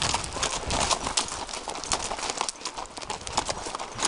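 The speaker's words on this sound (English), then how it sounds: "Me, I'm riding the black horse" Rapid, irregular hoofbeats of a black horse clip-clop close by on a Knott County trail ride, a steady rhythmic clatter with no voices.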